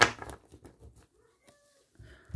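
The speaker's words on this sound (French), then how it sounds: "les chats, commencez pas" Cats meowing indoors, a loud meow at the start, a few faint soft mews through the middle and another meow rising at the end, with no talking.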